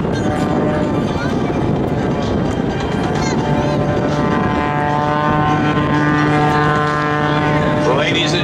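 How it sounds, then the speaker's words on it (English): Aerobatic propeller aircraft hanging on its tail in a hover at an air show, a loud steady engine drone with a rising and shifting harmonic whine throughout. "he is going to stand this aircraft on its tail and bring it to a hover in front"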